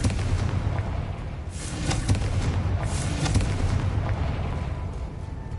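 Confringo fire spell in Hogwarts Legacy going off as a sustained rumbling explosion, with a couple of sharper crackling bursts riding on a loud, continuous low roar for several seconds.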